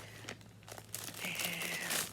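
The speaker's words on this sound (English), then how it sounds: "sorry for the crinkling" Plastic packaging crinkles around a skein of yarn that came in the mail, in close, irregular rustles and crackles that grow busier and louder toward the end, with no talking over them.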